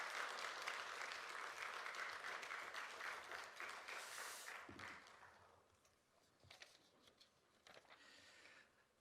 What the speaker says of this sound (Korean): 목사님 나오실 때 큰 환영의 박수로 목사님을 모시도록 하겠습니다.